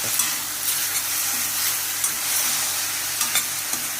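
A spoon steadily stirs a wet grated coconut mixture in a pan, with soft scraping strokes over a continuous light sizzle and no voices.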